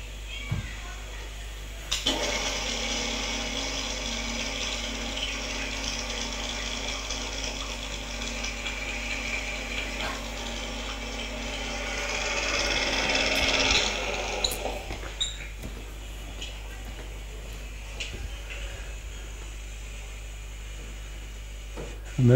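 A machine grinds and whirs steadily for about twelve seconds as a fixed drill machines a rotating workpiece, the pitch rising slightly before it stops, with faint clicks and a voice speaking afterward.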